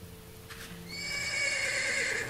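Horses in the video game Ash of the Gods give a sharp neigh and whinny, with soft hoof clops beneath, heard faintly and close, with no talking.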